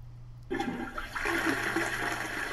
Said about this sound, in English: it's a nice, good flushing sound